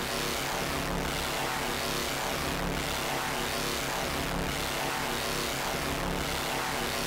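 Thick synthesizer drone from the saw and co-saw outputs of a Three Body oscillator module, a dense buzzing tone that swells and phases in slow regular sweeps roughly every second and a half, steady and loud with no voice.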